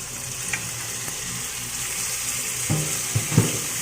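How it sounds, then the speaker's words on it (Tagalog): Chicken sautés with onion and garlic in a pan, giving a steady loud sizzling hiss up close, with a few short stirring knocks and scrapes toward the end. "igisa lang namin ng yung chicken"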